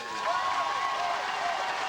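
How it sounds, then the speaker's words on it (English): A high school football crowd at a night game between Haslett and Meddleville cheers and applauds in a continuous roar, with a commentator's voice running over it. "As you can tell, crowd very,"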